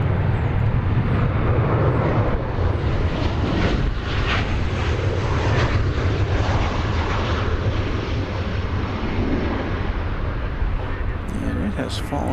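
A Breeze Airways airliner at DFW Airport roars steadily in the distance, a broad rumbling jet-engine wash that holds loud and unbroken for about twelve seconds.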